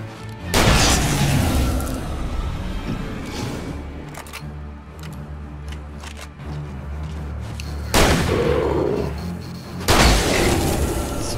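Gunfire in the Alan Wake video game: repeated loud booming shots in bursts near the start and again around eight and ten seconds, with a low rumbling bed between them.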